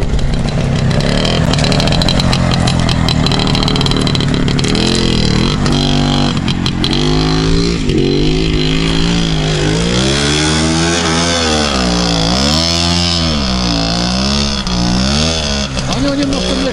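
A motorcycle engine with a carburetor that bogs on first acceleration revs loud and close for the whole stretch, its pitch rising and dipping as the throttle opens, beside a riverbank, with voices talking over it.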